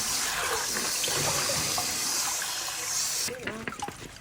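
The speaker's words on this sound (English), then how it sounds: "I run very cold water on to stop the cooking process so it doesn't overcook." Water gushes steadily from a tap, a loud continuous rush, then cuts off, leaving dripping and trickling sounds.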